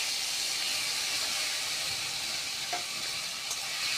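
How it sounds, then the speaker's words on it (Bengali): White mustard paste stir-fries with katla fish in a pan, giving a loud, continuous sizzle and hiss with faint stirring scrapes throughout. "সাদা সর্ষে বাটা দিয়ে একটু ভালো করে কষিয়ে নেব"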